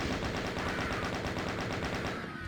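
Rapid automatic bullet fire in the Doom mod Eviternity II, a steady fast stream of shots at an even rhythm lasting over two seconds and stopping abruptly at the end.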